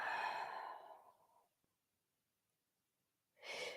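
Slow breathing out during a mellow deep-stretch yoga session, a soft airy exhale fading over about a second and a half, then quiet, then another breath starting at the end; faint and close.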